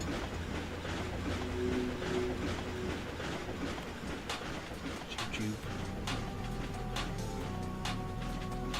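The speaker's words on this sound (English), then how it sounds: "it is time for me to get on the train" A train rides along in the Ratchet & Clank HD Trilogy video game, a steady rumble with rhythmic clacks and a few squeals under intense game music and a voice talking.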